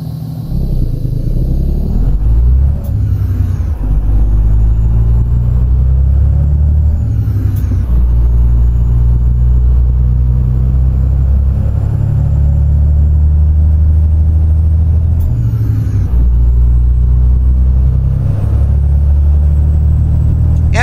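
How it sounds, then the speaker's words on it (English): Kenworth W900 with a Detroit Series 60 585-horsepower diesel and 18-speed transmission in American Truck Simulator, a loud steady engine drone with rising and falling revs at gear shifts and occasional sharp air-brake hisses. "underneath today's hood on the W900, we have a Detroit Series 60 585 horsepower"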